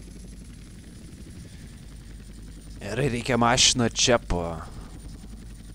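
A helicopter drones steadily in the video game GTA San Andreas, its low, continuous engine hum staying close throughout while someone talks over it partway through.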